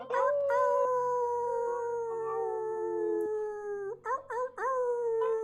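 A group of people imitate wolf howls together at a full moon community gathering, a long sustained chorus of rising and falling voiced howls, followed by a few shorter howls near the end.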